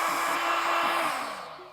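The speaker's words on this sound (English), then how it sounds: "Now I use a hot air gun to heat it up." A hot air gun blows steadily while heating the glue backing of a trim accent on a Honda Goldwing GL1800 motorcycle, a continuous close airy whoosh that fades slightly toward the end.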